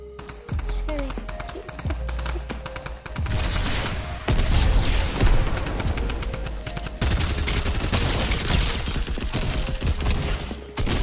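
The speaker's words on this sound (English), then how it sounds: "That was me with the grenade launcher." Video game combat with a grenade launcher, dense bursts of gunfire and booming blasts filling the mix, mouse and keyboard clicks tapping throughout and a person talking over it.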